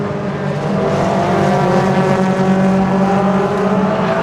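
Several racing cars lap Donington Park in a 750 Motor Club race, their engines forming a loud, steady, continuous roar that stays close with no break throughout.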